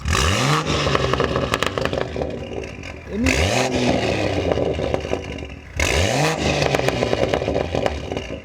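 A BMW M2 fitted with a VRSF downpipe and Valvetronic exhaust revs in Sport Plus through three sharp, loud throttle blips, each rising then holding a raspy roar before falling back, close up.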